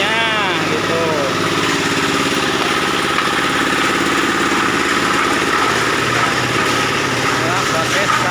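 An engine-driven organic waste processing machine runs at a village TPS 3R waste facility in Cihea, giving off a loud, steady, continuous drone with no breaks for the whole stretch.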